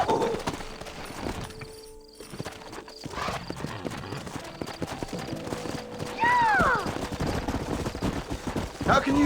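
Horses gallop with steady clip-clop hoofbeats throughout this Red Dead Redemption scene, joined by a whinny and scattered gunfire, while a voice speaks over the action.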